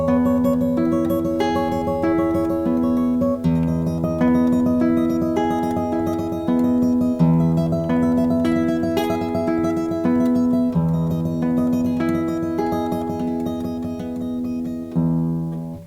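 Steel-string acoustic guitar played with a fingerpicking tremolo pattern, rapid repeated picked notes over moving bass notes, bright and sustained throughout, close and loud with no talking.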